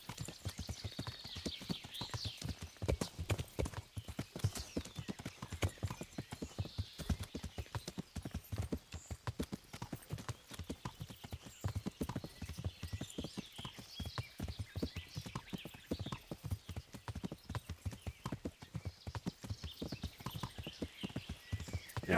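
Horse hooves clip-clop in a steady, rhythmic gait on the ground in the medieval video game Kingdom Come: Deliverance, quiet but continuous for over twenty seconds with no talking.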